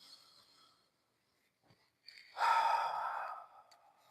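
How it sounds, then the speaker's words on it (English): One long breath is drawn in and let out as a loud, airy sigh during a tai chi warm-up, preceded by fainter breathing and near silence. "Breathing, conscious breathing."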